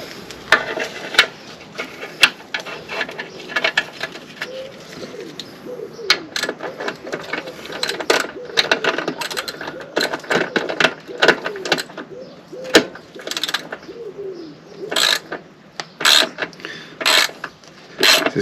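A socket wrench works bolts on a BSA A10 motorcycle, giving repeated sharp ratcheting clicks and metallic knocks in irregular bursts, close up, with brief pauses between turns.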